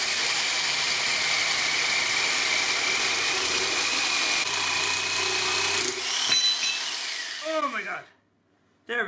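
A jigsaw fitted with a custom-made blade, teeth facing the reverse direction, cuts a sword blade with a steady buzzing drone that shifts partway through, then winds down and stops near the end.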